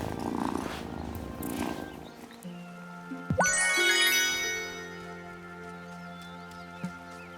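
A cat purrs in the farming video game Wylde Flowers, a steady low rumble that sets in partway through, with a bright chime and tinkling game sounds layered above it and no talking.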